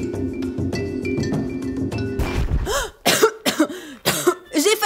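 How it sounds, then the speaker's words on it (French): A woman coughs several times in quick, harsh bursts after a stretch of other indoor sounds, close and fairly loud. "Heureusement que j'ai commencé à tousser."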